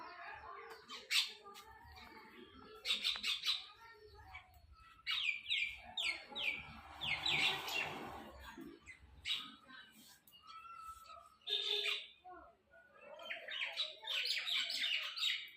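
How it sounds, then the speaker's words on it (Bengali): A flock of birds chirps and tweets in repeated bright bursts while pecking at biscuit crumbs on a cleared patch of ground one morning, fairly close and with no voices. "দেখো কতগুলো পাখি চলে আসছে এখানে।"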